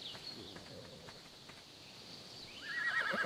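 Horses outdoors in a field, one giving a clear high whinny near the start and another rising neigh toward the end, with faint hoof clops and rustling between them at moderate distance.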